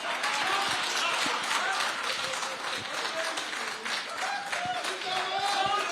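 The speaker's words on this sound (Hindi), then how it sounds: "ये जितने बैठे ताली बजा रहे हैं" A seated audience claps steadily throughout, a continuous crowd applause heard under ongoing talk.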